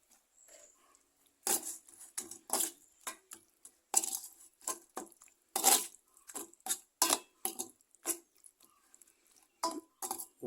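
A spoon scrapes and clinks against a bowl while a mashed side dish is mixed with coconut oil, giving a string of short, uneven taps and scrapes close up with quiet gaps between them.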